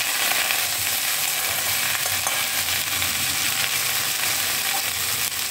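Stuffed okra (vendakkai) stir-fried in a pan, a loud, dense, continuous sizzle with crackling and occasional scraping of stirring, heard close up with no voices.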